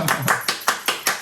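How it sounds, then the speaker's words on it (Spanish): Clapping during a Spanish-language interview, a short run of about six crisp, evenly spaced claps, close and clear, as if from only a few pairs of hands. "Venga, otro aplauso para ella."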